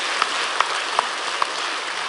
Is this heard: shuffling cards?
no